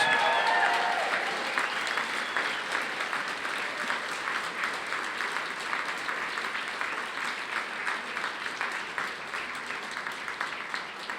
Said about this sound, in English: Can we get another round of applause and a few more cheers for Bruce, please?